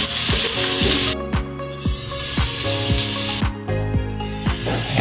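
Finely minced garlic sizzles loudly in hot cooking oil in a pan, a steady close frying hiss broken by rhythmic scraping stir strokes of a spatula about every half second.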